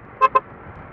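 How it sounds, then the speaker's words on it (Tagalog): Two quick car horn toots sound in road traffic on a Philippine road near Tagaytay, short bright beeps over a faint background hum of vehicles. "ang dami ng sasakyan na naman"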